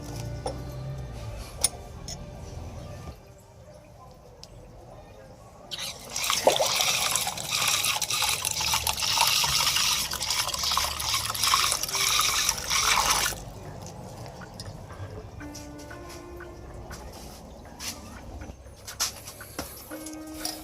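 Water is poured into a container to dissolve a teaspoon of table salt for treating catfish, a steady broadband pouring rush lasting about seven seconds, with quieter trickles and drips before and after.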